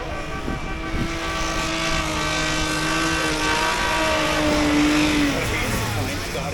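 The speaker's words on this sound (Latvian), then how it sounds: "Tas šķiet kā ar pārliecinošu falšu startu aiziet trasē Audi" An Audi rally car roars off the line at a hill climb event after a false start, its engine a loud sustained drone with shifting pitch, heard under continuous commentator talk.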